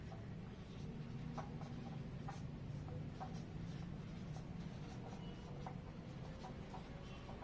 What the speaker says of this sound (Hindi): आइए पहले लिखेंगे